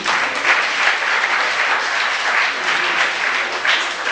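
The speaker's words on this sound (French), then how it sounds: "je voudrais qu'on applaudisse Aspire Football Fédération" Steady, dense applause from an audience at a 2014 launch event, loud and continuous for several seconds with no voices over it.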